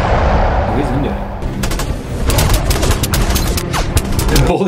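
Rapid bursts of gunfire and booming impacts from The Incredible Hulk film fill the scene, a dense, loud volley with scattered sharp cracks, while voices talk over it.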